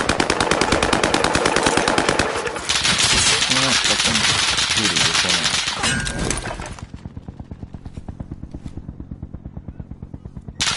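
Rapid automatic gunfire in Call of Duty Warzone, loud and continuous for several seconds, then giving way to quieter, evenly spaced bursts of shots near the end.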